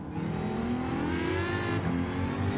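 A Prodrive Aston Martin GR3 race car in Gran Turismo, racing at Bathurst's Mount Panorama, roars close by with its engine pitch climbing steadily under acceleration and a brief shift, loud and continuous.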